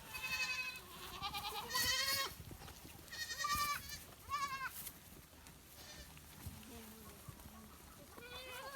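Several goats bleat repeatedly and close by while being fed freshly cut grass at midday in hot weather, their wavering cries rising over a background of rustling and faint human voices.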